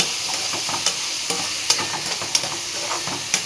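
Tomatoes sautéing with onion and garlic in a pan, a steady soft sizzle broken by a few sharp scrapes and taps of a stirring spoon.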